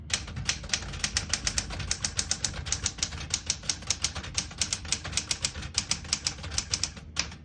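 Rapid, steady typing on a 1973 Smith-Corona Galaxie 12 vintage portable typewriter set to low touch control, with dense, evenly spaced key strikes clattering up close throughout.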